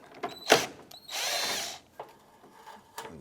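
A power tool loosening a 10mm headlamp bracket bolt on a 2005-2007 Ford Five Hundred, with a sharp click, then a brief close whirring burst of about a second, followed by faint clicks and a short final whir.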